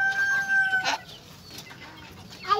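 Chickens feeding on processed banana stems cluck close by, with a drawn-out crowing-like call at the start, then scattered short clucks over a quiet background.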